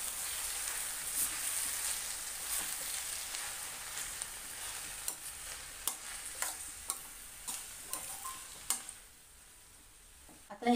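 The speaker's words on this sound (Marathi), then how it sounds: "आता ही आपण मिक्स करून घ्यायची." Chopped fenugreek leaves stirred and tossed in a pan for a Maharashtrian methi bhaji, giving soft scraping and faint sizzling with scattered sharp spoon ticks, fairly quiet and close, with no talking.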